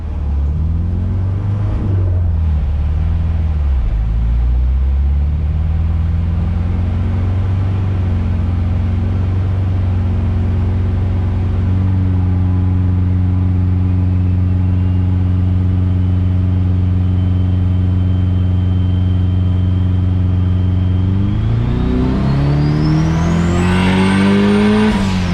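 A turbocharged Honda Prelude H22 engine, running with VTEC turned off, drones loudly and steadily for a long stretch with a deep, even rumble. It then climbs in pitch as it revs higher, with a rising turbo whine near the end.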